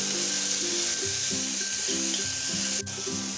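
Green chillies and onion fry in hot oil with cumin, a dense continuous sizzle close to the pan, steady and loud throughout with a faint underlying hum.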